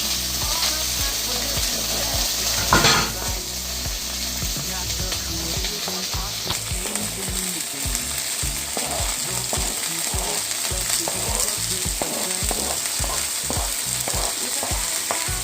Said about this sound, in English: So I'm gonna saute them